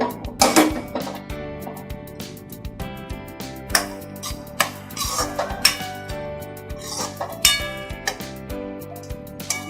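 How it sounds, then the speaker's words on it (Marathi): A masher works peas and capsicum in a metal pan for pav bhaji, giving repeated sharp clinks and knocks in an uneven rhythm, close and fairly loud, with no one speaking. "मॅशरनी आपल्याला मटर आणि कॅप्सिकम थोडं मॅश करून घ्यायचं आहे."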